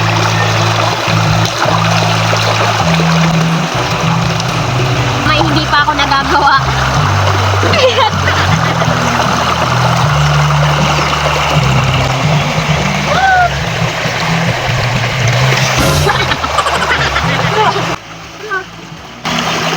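Water splashes and pours as someone rinses off while bathing in a cold river, with continuous close splashing and flowing water, a low engine-like hum underneath, and people talking throughout.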